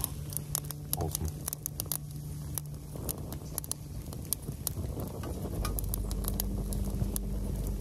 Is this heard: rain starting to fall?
yes